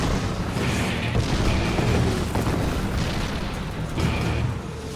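German artillery shells exploding against an exposed Canadian advance in a tank battle, heard as a continuous rumbling wall of distant booms and bursts with no clear gaps.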